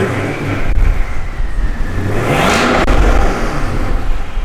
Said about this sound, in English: you can hear the turbos in that